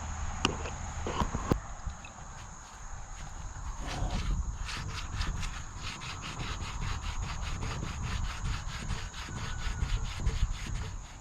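Aluminum foil rubs over rusty chrome, making a close, gritty scrubbing rasp. A few sharp knocks come at the start, then quick back-and-forth strokes repeat steadily.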